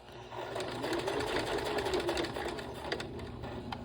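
An older sewing machine top stitches a sling bag in one steady, humming run of rapid needle strokes, close but quiet, with no talking.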